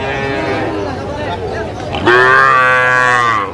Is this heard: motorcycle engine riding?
no